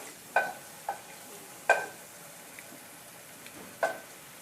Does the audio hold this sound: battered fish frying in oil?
yes